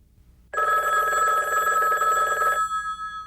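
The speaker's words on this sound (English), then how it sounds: "The phone call came Friday morning, maybe 7:30-ish." A telephone bell rings loudly and steadily for about two seconds, a single sustained ring with no talk over it, then cuts off abruptly.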